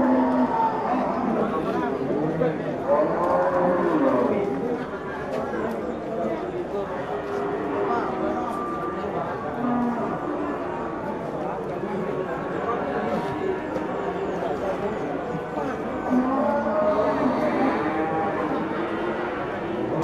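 Cattle low repeatedly at a busy livestock market in Pati, several drawn-out moos from different animals rising over constant crowd chatter and people talking nearby.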